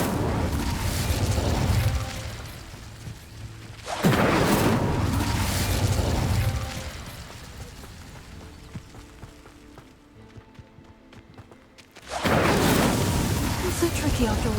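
Incendio fire spell cast in the video game Hogwarts Legacy, heard as repeated loud fiery bursts in separate waves with quieter gaps between, with a player's voice talking over parts.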